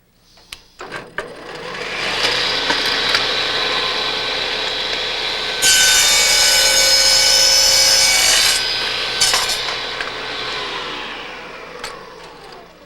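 A Shopsmith Mark V saw cuts through wood held against a miter gauge, a loud close rasping whine that builds, holds steady for several seconds and then tapers off, with a few knocks at the start and end.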